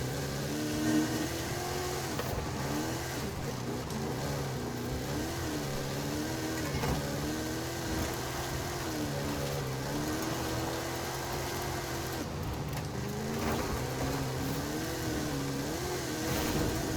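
A Pontiac Firebird engine in Forza Horizon drones and revs continuously, its pitch rising and falling with acceleration and shifts over a steady rumble, loud and unbroken throughout.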